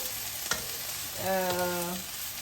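Rice and vegetables fry in a pan with a steady, close sizzle and hiss, one sharp clack from stirring early on and a brief tonal hum partway through.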